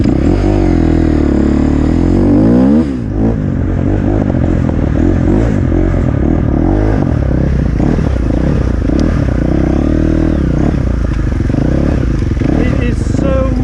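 A motorcycle engine revs and labours as the bike rides up a muddy, slippery hill in the rain, loud and close throughout, with clattering and scraping and a voice talking over it.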